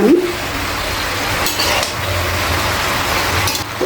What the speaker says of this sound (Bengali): এটা দেওয়ার পর ভালো করে কষিয়ে নেব